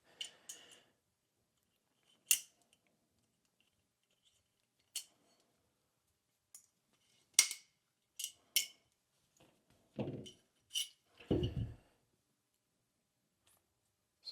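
The firing pin is worked out of a Staccato XC pistol, producing sparse, sharp metallic clicks and small taps at irregular intervals against near silence, with a couple of duller thumps of handling later on.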